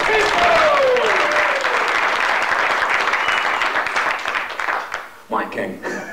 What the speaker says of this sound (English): A big round of applause for CHICO